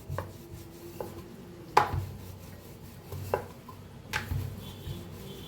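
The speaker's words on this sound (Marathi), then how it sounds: "थोडं थोडं पीठ लावून लाटून घेऊया." A rolling pin works dough on a board, giving a series of dull wooden knocks and thumps at irregular intervals with soft rolling friction between them, close and fairly quiet.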